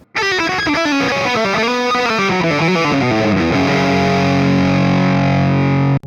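A distorted electric guitar through a Donner Pocket Go amp modeler, red-channel preset, plays a bending, wavering lead line, then settles into a sustained, crunchy chord that rings out before cutting off.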